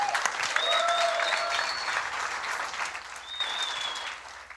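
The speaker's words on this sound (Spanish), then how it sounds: "Dale un aplauso al Señor, hijos" Church congregation claps loudly and steadily, a thick wash of applause with a few whistles or shouts rising above it, fading slightly toward the end.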